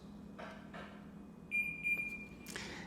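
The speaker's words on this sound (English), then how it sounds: "to start it, you press this and hold it down until you hear 2 beeps" Two electronic start-up beeps from an electric riding mower's control panel, a brief pair of steady tones close together over a low background hum, followed by a short rising chirp.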